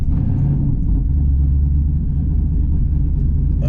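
A third-generation Camaro idles roughly with the air conditioning on, a steady low engine rumble that runs unevenly as the motor struggles, loud and close with no talking.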